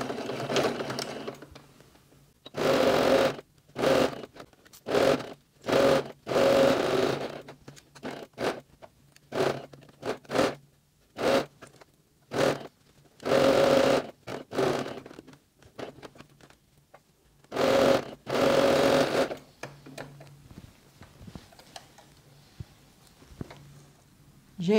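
A domestic sewing machine with a 0.75 presser foot stitches fabric for a face mask. It runs in short bursts of rapid whirring and patter, with brief pauses between seams.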